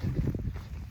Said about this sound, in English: the second concern is the wind